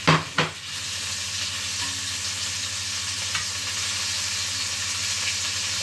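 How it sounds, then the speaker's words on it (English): Veal pieces sizzle loudly in a hot pan after two sharp hits as the meat goes in, followed by a steady broadband frying hiss that continues evenly to the end. "we're going to put the meat into the pan here"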